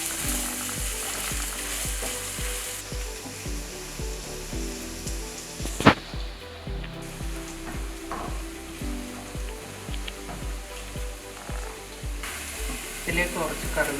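Ginger and garlic frying in a pan for a Kerala-style buffalo meat stir-fry, with a continuous soft sizzle and repeated spoon-stirring scrapes against the pan, close and without talk.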